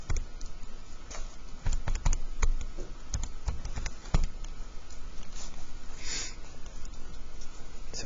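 Quick, irregular button taps on a calculator keypad as an equation is entered, light clicks sounding close against a quiet room background.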